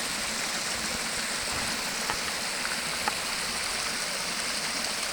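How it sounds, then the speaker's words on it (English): Steady rushing of a creek flowing down a valley above Crabtree Falls, Virginia, a continuous broad hiss of running water with a couple of faint splashy ticks. "And see the creek flows down out of this kind of valley here"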